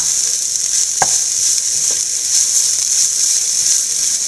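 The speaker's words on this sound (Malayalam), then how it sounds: "നല്ലപോലെ വഴറ്റി കൊടുക്കുക" Drumstick sautéing in a pan, a steady close hissing sizzle with a couple of light clicks from stirring, and no one speaking.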